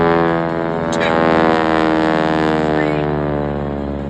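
A propeller aerobatic airplane drones steadily through a four-point roll at an air show, its engine tone loud and continuous with slight rising and falling pitch as the aircraft rotates.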